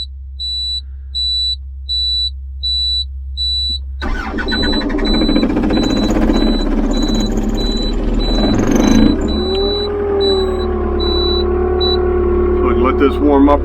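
A diesel engine started after glow plugs idles steadily and warms up, running loud and close alongside a battery charger, with a repeating electronic beep early on and a voice talking over the running engine.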